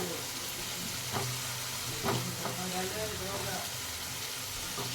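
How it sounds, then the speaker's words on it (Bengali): Ginger, garlic and onion paste frying in a pan, a steady close sizzle with a few soft scraping stirs, while a faint voice murmurs in the background. "এবার ভালো করে আমি ওটাকে ভেজে নেব, গন্ধটা চলে যাবে আদা রসুনের"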